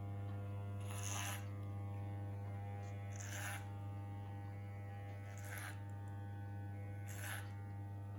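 Electric hair clippers hum steadily through a home men's haircut at a number 4 guard, a constant buzzing drone with short brighter bursts as the blades pass through hair, close up with no talking.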